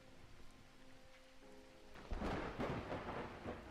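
A thunderstorm sound effect plays during a tabletop role-playing session: faint steady rain with a low tone, then a rolling rumble of thunder breaks in about halfway and grows louder with heavy rain.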